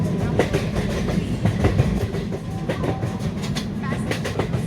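Rajdhani Superfast Express train from an Indian train video game, a steady loud rumble of wheels on rails with rhythmic clickety-clack beats, continuous and close.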